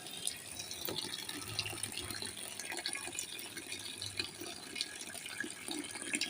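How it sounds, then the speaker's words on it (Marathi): Water poured onto potted hibiscus, tulsi and brahma kamal plants on a balcony, a quiet continuous trickle and splash with faint background noise, no talking. "तर मी रोज माझ्या या झाडांना पाणी घालत असते"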